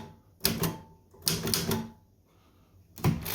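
An L.C. Smith typewriter types three quick bursts of sharp mechanical key strikes and clacks, each a short cluster of impacts separated by pauses, close and clear with no talking.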